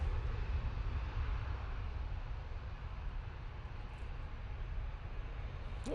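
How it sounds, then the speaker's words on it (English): Aer Lingus A380 airliner crossing runway 23 right at Manchester Airport, a steady, broad low engine roar held constant throughout without any clear rise or fade, moderately distant. "Aer Lingus A380 now crossing over 23 right."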